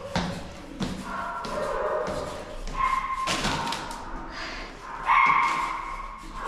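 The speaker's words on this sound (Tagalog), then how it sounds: "Ingay na aso." A neighbours' dog barks and yips intermittently at a distance, mixed with dull thumps and household noise, with no speech.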